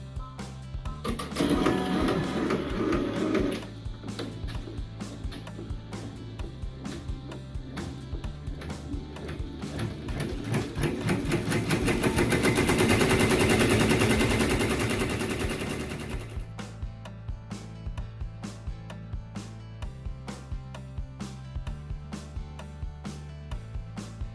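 An embroidery sewing machine stitches out a fabric outline with rapid, rhythmic mechanical clatter, close and steady, swelling into a louder busy run mid-way before settling back into regular ticking pulses.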